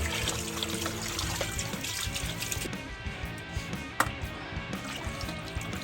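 Tap water trickling and splashing while pork spare ribs are washed in a kitchen, a steady running stream with small clatters and drips, fairly quiet and close.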